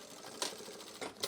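A sewing machine back tacking a duffle bag seam, short bursts of rapid needle stitching separated by brief pauses, close and fairly quiet.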